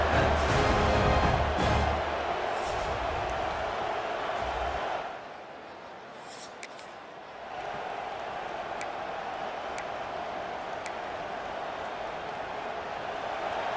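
Stadium crowd roaring and cheering at a Penn State versus Michigan State rivalry game in College Football 26, a loud dense wash that dips briefly midway before swelling back steadily.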